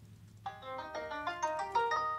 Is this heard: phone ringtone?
yes